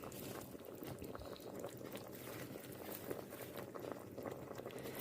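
Cabbage simmering in a pot of boiling liquid while preparing a borscht base: steady, low bubbling and soft liquid churning throughout, fairly quiet and close, with no voices.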